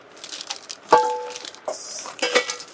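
Pure iron pans and small tempering pots clink and clatter as they are handled, with a few sharp metallic knocks and ringing tones between softer scrapes.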